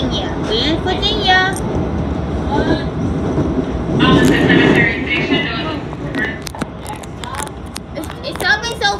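A Washington Metro Blue Line train pulls into Arlington Cemetery station with a loud rumbling roar, rail squeals and clatter, and people talk over the arriving train.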